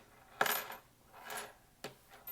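A few small metal screws drop and clatter onto a hard surface during a screwdriver test, three bright clinking impacts with brief rattles, close and fairly loud against a quiet background.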